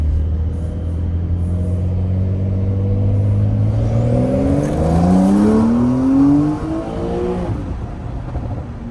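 A modern Porsche 911 Carrera 4S accelerates through town, its engine note climbing steadily in pitch as it pulls hard. The sound is loud and close from inside the car, then eases off near the end.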